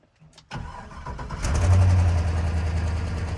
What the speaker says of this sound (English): Oh yeah, you can hear that exhaust leak, the lifter tick.